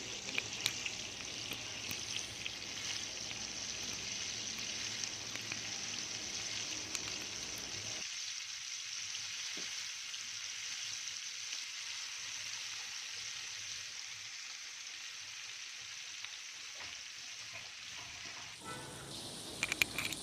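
Marinated shrimp frying in hot oil, a steady close sizzle and hiss that runs without a break and thins slightly partway through, with no voices.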